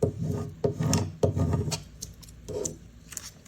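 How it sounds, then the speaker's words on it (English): A plastic scraper tool rubs adhesive vinyl onto a milk bottle in short, firm strokes, making close, soft scuffing and rasping sounds in an irregular rhythm, with no talk. "Use your scraper tool, just make sure that your design adheres to it."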